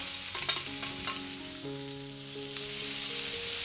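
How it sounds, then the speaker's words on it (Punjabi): Finely chopped onion sizzles in hot oil for a dhaba-style chana dal tadka, a constant bright hiss with a few stirring taps, heard beneath soft background music. "ਫਿਰ ਪਾਵਾਂਗੇ ਇੱਕ ਵੱਡੇ ਸਾਈਜ਼ ਦਾ ਪਿਆਜ਼ ਇਸ ਤਰ੍ਹਾਂ ਬਰੀਕ ਬਰੀਕ ਕੱਟਿਆ ਹੋਇਆ"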